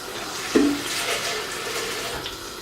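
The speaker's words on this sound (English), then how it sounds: "And I'm going to add some water in here." Water is poured into a cooking pot while a Nigerian vegan stew is being made on a lit stove, with a short, close splash at the start that settles into a faint, steady wash.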